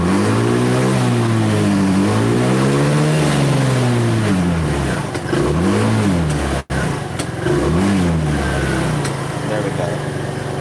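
A Buddy 125 scooter engine warms up with its idle hunting on its own, then revs up and down in repeated rising and falling sweeps, loud and close, with a brief cut near the middle.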